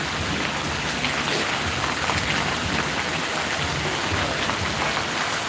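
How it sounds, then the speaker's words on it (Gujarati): Steady, heavy rain pours down in a dense, unbroken hiss, with no voices or other sounds standing out. "આમ જો વરસાદ"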